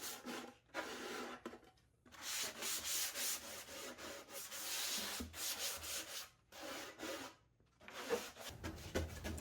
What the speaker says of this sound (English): I grabbed some 120 grit sandpaper and just lightly sand the surface so it's nice and smooth